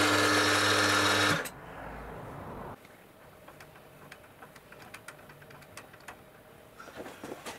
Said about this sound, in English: I'm just finishing off the depth stop bracket by drilling and tapping an